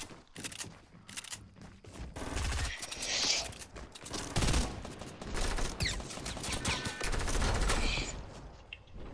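Gunfire in a video game comes in dense, rapid bursts of shots and fusillades that run nearly continuously, fairly faint in the mix, with no clear talk over it.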